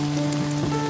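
Rain falls in a steady, even hiss on a drama set, with a constant low electrical hum running underneath and no voices.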